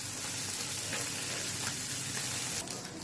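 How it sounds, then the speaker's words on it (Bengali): Puti fish fry in hot oil in a pan, giving a steady, close crackling sizzle that continues throughout, with a brief clatter near the end. "মাছগুলো ভাজা হয়ে গেছে আমি এখন তুলে নেব"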